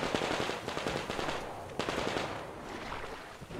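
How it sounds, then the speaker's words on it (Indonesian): Sustained automatic gunfire in the post-apocalyptic shooter game Metro Exodus, rapid bursts of shots rattling in quick succession with a sharp single crack midway, heard from some distance over a rumbling background. "Oh, mereka lagi tembakan itu guys."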